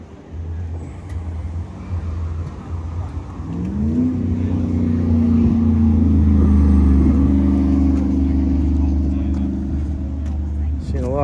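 A twin cam motorcycle at a bike run in Taunton, Massachusetts rumbles past with a deep, loud engine drone that swells and rises in pitch midway, mixed with outdoor road noise and some voices.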